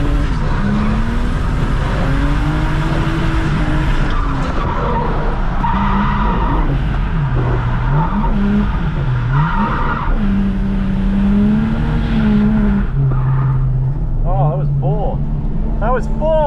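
A turbocharged Lexus IS200 drifts around a wet track, its engine revving up and down with tyre noise, loud and continuous, while someone talks over it.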